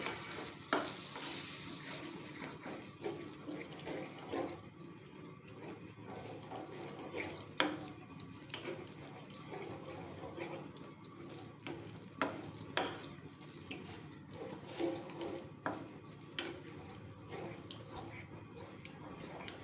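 Chicken in yogurt for a black pepper gravy is stirred in a pan over low heat: a steady soft sizzle with scraping strokes and occasional sharp spoon clinks against the pan, close and moderately loud, no talking.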